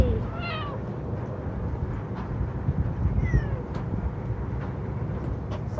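A cat meows a few times, short and fairly faint, against steady background noise outdoors in cold rain.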